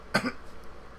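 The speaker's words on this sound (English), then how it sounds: "He's fucking coughing up his lung." A single short cough from a person after smoking, close and moderately loud, followed by quiet.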